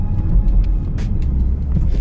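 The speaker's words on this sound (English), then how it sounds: "So pretty considerable amount of wheel spin here." A Mazda CX-90 spinning its wheels on an AWD slip test rig, a low rumbling engine and drivetrain drone heard from inside, steady and fairly loud with faint clicks above.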